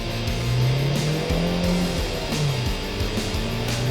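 A Jeep Compass diesel SUV drives at high speed on an open road in India, giving a steady loud engine drone and road roar with shifting tonal hums and no voices.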